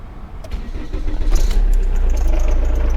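A Holden/Chevrolet Epica engine with glow plugs cranks briefly and catches, then settles into a steady low idle rumble, close by.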